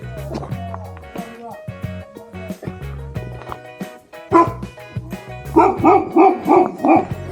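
A dog barks in a rapid run of loud yelps and bow-wows near a mountain hermitage in Jirisan, with a couple of heavier barks toward the end.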